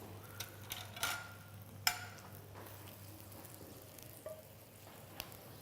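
Spinach and samphire cook in a pan, a faint, steady sizzle broken by scattered soft ticks and pops.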